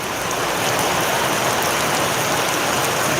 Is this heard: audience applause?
no